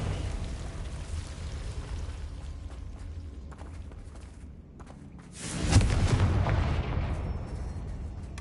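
A Confringo explosion spell in Hogwarts Legacy on PS5 lands as a deep, booming blast that swells out of a steady rumble of game ambience and then decays slowly.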